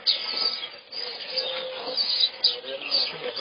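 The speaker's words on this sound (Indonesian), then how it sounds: "Ini apa nama burung?" Birds chirp and call in repeated short notes at moderate distance, with people talking quietly over them.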